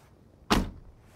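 A Daihatsu Hijet minibus door swings shut with a single solid thud, close and fairly loud, quickly fading in an otherwise quiet setting.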